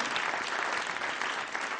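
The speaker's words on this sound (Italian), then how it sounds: "fategli anche un applauso" A cabaret crowd gives continuous applause, a thick, steady wash of many hands clapping with no break and no distinct talk.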